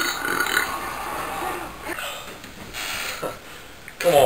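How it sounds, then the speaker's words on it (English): A man belches over and over in a drawn-out burping session, low guttural eructations coming one after another at close range, with some background noise and no clear speech between them. "I need to burp every second for the next like 10 minutes"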